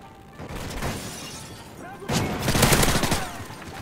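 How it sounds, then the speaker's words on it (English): Video-game gunfire bursts in Terminal Domination gameplay: sparse shots at first, then a dense, loud rattle of rapid automatic fire with glassy, clattering impacts, a player's voice talking over it. "I didn't even see that guy there until he started shooting."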